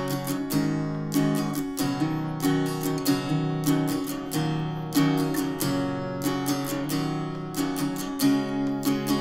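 An acoustic guitar strums the chords of a song in a steady repeating rhythm, clear and close with regular strokes and no talking.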